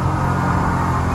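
A Yamaha FR24 boat's 150 hp outboard engine revs hard with a steady, loud, close droning roar throughout, with no talk over it.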